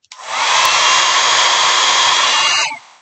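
A compact folding travel hair dryer switches on and runs on its high setting, a loud, steady, close rushing whir of air and motor for about two and a half seconds before it shuts off.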